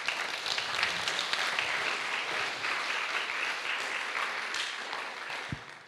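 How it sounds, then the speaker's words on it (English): Sustained audience applause for presenters at a live discussion event on cultural appropriation, dense steady clapping from many hands that fills the whole stretch and tapers slightly near the end, with no talking over it. "please give our presenters a round of applause"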